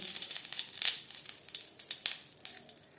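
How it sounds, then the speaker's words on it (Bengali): Green peas for kachori filling are ground in bursts of gritty, crunchy crushing and whirring texture, moderately loud with uneven pulses and no voice. "এবার আমি কচুরির জন্য মটরশুঁটি বেটে নেবো"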